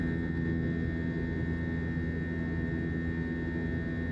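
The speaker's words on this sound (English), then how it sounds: "the plane was louder than I thought it'd be" Airplane cabin noise during flight, a constant loud broadband roar with a steady engine hum, unbroken and close, with no talking.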